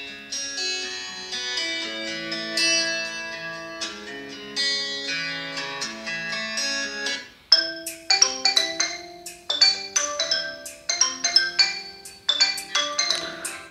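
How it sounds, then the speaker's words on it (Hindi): Ringtones from a Redmi 9T phone through its dual speakers: bright melodic tones play continuously at first, then give way to a run of sharp plucked chime notes. Close and clear, with no voices. "कुछ रिंग टोन्स यहाँ से मैं आपको"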